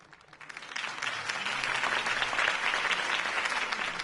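Crowd applause after a campaign speech in the Batman Telltale game swells up within a second and holds as a dense, steady wash of clapping from a large audience.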